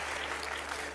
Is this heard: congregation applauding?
yes